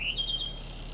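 Birds chirp in Farming Simulator 22 over freshly harvested grass, a quick bright high trill at the start over a steady low ambient hum, fairly close and short.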